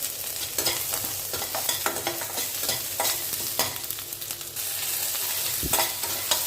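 Cashews and green chilies fried in a pan, a dense continuous sizzle with repeated scraping stir strokes throughout, close and fairly loud, no voices.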